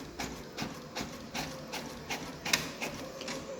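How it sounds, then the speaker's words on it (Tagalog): A Brother DCP-T710W inkjet printer printing a page steadily, its print head moving in regular mechanical pulses about twice a second, close and moderately loud. "the printer will start printing because it has received a print request"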